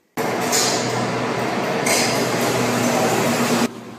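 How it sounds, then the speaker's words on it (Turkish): A train sound effect gives a steady loud rumbling roar with clinking, running continuously for several seconds before cutting off abruptly. "Tren"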